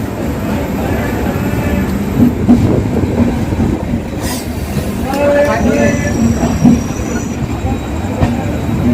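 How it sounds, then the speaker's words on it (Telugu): Secunderabad Express pulling out of platform 3 at Akola railway station, a steady loud rumble of wagons with rail clatter and brief wheel squeals throughout, close by. "సికింద్రాబాద్ ఎక్స్ప్రెస్ యొక్క డిపార్చర్ అకోలా రైల్వే స్టేషన్లో ఉన్న ప్లాట్ఫారం నెంబర్ 3 నుండి చూడండి ఫ్రెండ్స్"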